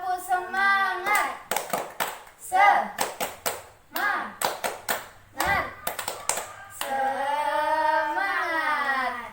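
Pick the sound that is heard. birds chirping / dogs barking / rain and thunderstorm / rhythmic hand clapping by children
rhythmic hand clapping by children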